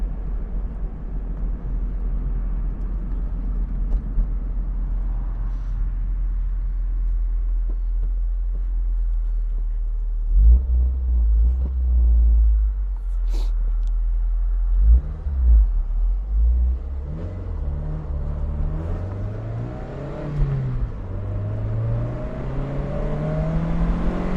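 A 2003 Toyota MR2 Spyder TRD with a five-speed gearbox accelerates hard, its engine note climbing through rising revs with a deep rumble and a gear shift partway, loud and close with no talk.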